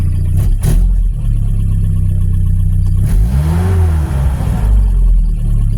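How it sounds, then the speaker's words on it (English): Carburetted 1986 Nissan 720 pickup engine idling steadily, then its revs climb noticeably partway through, a close, loud mid-pitched hum with no voices. "You can hear the idle is coming up."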